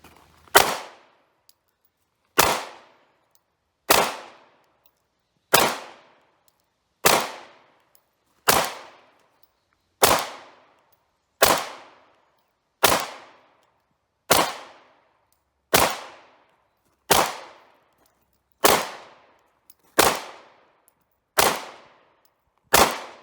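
A brand-new Glock Model 45 pistol fires at a range, a dozen sharp single shots spaced evenly about two seconds apart, each cracking loudly and fading quickly into silence.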